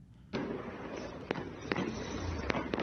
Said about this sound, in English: you can hear the firecrackers in this clip too